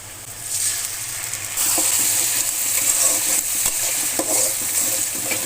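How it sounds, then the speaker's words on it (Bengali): A ground paste of ginger, cumin, garlic and onion fries in a pan of browned onions, giving a steady, close sizzle with occasional stirring scrapes and no talking. "এখন আমি এটা একটু হালকা করে কষিয়ে নেব যেন কাঁচা গন্ধটা না থাকে"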